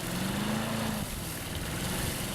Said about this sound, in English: pushes the lawnmower around and around